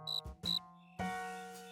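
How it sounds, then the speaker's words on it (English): A cartoon cricket chirps loudly and shrilly in two quick bursts followed by a longer sustained trill, up close and alone without any speech. "You know, George, if we don't catch that cricket, we'll never get any sleep."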